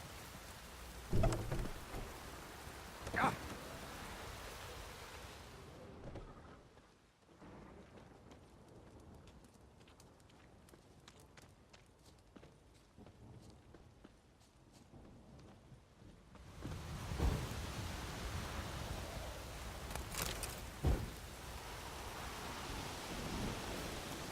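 Rain pours steadily with occasional rumbles in The Witcher 3 video game, then drops to a quieter patter of scattered drips before the downpour swells back.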